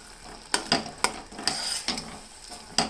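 Grated carrots fry in ghee for carrot halwa while a spoon scrapes and stirs the pan in quick, irregular strokes over a soft, steady sizzle, close and fairly quiet.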